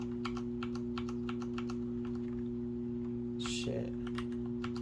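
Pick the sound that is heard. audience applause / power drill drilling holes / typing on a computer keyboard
typing on a computer keyboard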